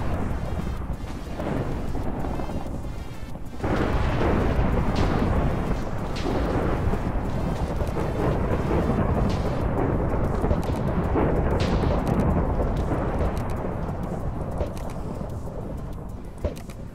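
Rumbling thunder from lightning in modded Minecraft 1.7.10 rolls on loud and continuous, with a heavy surge after a few seconds and sustained booming thereafter.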